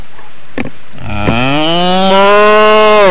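A cow gives one long, loud moo that starts low and swells into a sustained, rich drone, close and alone.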